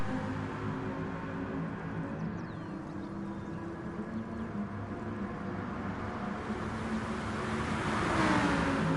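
A Lamborghini Huracan GT3 race car engine races around a wet Spa circuit in a racing video game, giving a steady droning roar that swells louder and higher near the end as it accelerates.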